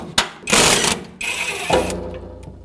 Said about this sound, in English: From the old caliper with an 11mm socket, remove the banjo bolt and therefore disconnect the hose.